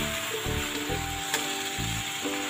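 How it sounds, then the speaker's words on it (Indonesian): Vegetables for Surabaya-style bakmi goreng being stir-fried and tossed in a pan, a steady soft sizzle with intermittent low scraping and stirring pulses, no voices. "Kita aduk dulu semua sampai layu ya guys"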